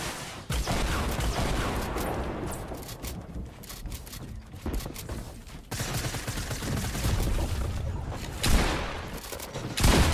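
Dense, continuous gunfire from a Fortnite match, with pump shotgun blasts among bursts of shots and explosive booms, loud and sustained throughout with no talking.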